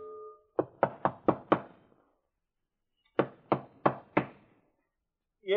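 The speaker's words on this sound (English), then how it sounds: "Yes, who is knocking, please?" Knocking on a door as a radio drama sound effect: two clear sets of four evenly spaced raps, loud and close, with a pause between the sets and a voice starting right at the end.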